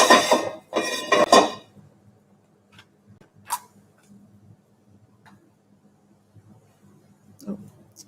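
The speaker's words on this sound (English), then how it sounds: "I'm just going to put another pan on." A metal cooking pan is set down on a kitchen stove with a short clatter, followed by faint scattered clinks of cookware in a quiet room, with brief voice at the start.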